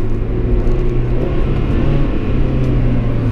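Mazda MX-5 Miata engine during a heel-toe downshift on a road drive, a steady close, loud low rumble of the motor holding throughout with slight rises in revs, no voices.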